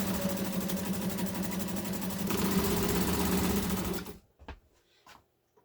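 A Montgomery Ward Signature sewing machine runs a zigzag stitch, a loud, steady mechanical whirring hum with a fast pulse for about four seconds, then stopping into a few faint clicks and handling sounds.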